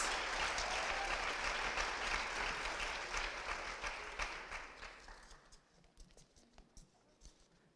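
Audience applause at a ballet competition awards ceremony, a dense clapping wash that thins and fades over the last few seconds to a few scattered claps.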